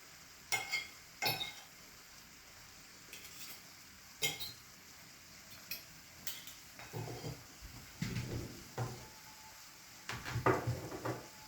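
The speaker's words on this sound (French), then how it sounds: "on vient mélanger les crevettes pour qu'elles prennent l'odeur de la sauce" Shrimp in spicy sauce are stirred in a pan, with intermittent scraping and clinking of a utensil against the pan at irregular intervals over a faint sizzle, close and moderately loud.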